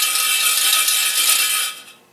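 A single trick coin shaken in a bucket makes a continuous bright, metallic rattling buzz that holds steady for about two seconds, then fades out quickly.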